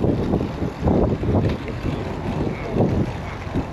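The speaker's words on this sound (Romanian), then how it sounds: "Dar te ține ca lumea vântul, mă, că-ți bate în față." Wind buffets the microphone in gusty bursts, a rough rushing roar that rises and falls several times while moving outdoors along a track near a village on the edge of London.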